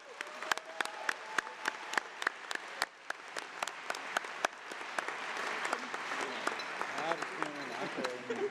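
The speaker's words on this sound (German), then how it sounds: "Beifall für die Bayern und die Wahlkämpfe dort." Applause for the Bavarian delegates rises through a party congress hall, beginning as scattered distinct claps and swelling into a fuller, sustained round of clapping from the crowd.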